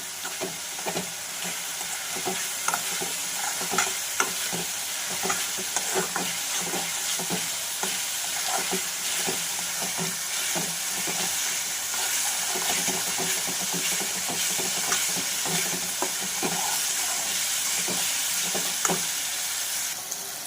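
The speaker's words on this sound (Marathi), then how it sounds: "छानपैकी असं फ्राय करून घेणार आहोत थोडंसं लालसर होईपर्यंत" Masala paste for rajma fries in a pan until reddish, a steady close sizzle lasting throughout, broken by frequent scraping clicks from stirring.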